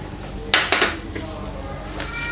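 Besan (gram flour) being stirred into warm desi ghee in a pan over a low flame, a couple of sharp metallic scrapes and knocks of a spoon against the pan followed by softer stirring scrapes.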